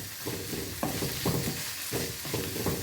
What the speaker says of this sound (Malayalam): തക്കാളി നന്നായിട്ട് ഒന്ന് വഴന്ന് വെന്ത് ഒന്ന് അലിഞ്ഞ് ചേർന്ന് വരട്ടെ.